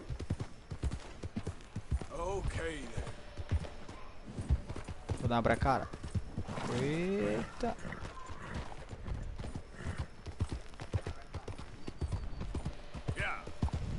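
Horse hooves clip-clop rhythmically in Red Dead Redemption II, with galloping thuds, creaks and a horse whinnying midway, running under near continuous chatter from players talking over the game.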